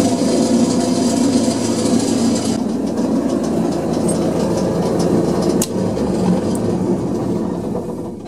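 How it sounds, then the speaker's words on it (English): A bandsaw running on a variable frequency drive (VFD) drones loudly and steadily throughout. The even mechanical hum and whine carries on without a break or any talk. "if we want to run the bandsaw, we just click on the bandsaw one, hit start"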